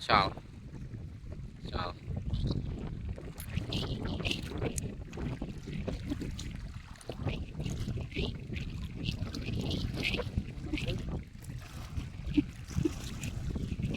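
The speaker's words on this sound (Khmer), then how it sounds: "ទឹកហូរខ្លាំងបងប្អូន ហើយខ្យល់ទៀតបងប្អូនខ្យល់" Strong wind buffets a small boat out at sea while water rushes and splashes steadily around it, loud and continuous, with someone speaking over the noise.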